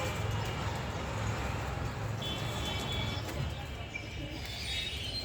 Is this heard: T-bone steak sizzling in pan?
no